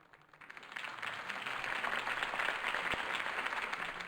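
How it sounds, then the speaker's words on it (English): Crowd applause rises after a campaign speech in an animated Batman episode, a dense, steady wash of clapping that swells within the first second and holds. "could have heard that applause"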